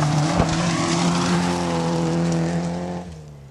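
A Peugeot 205 rally car brakes into a stage corner, its engine loud and close with a sustained droning note and tyre noise, easing off near the end.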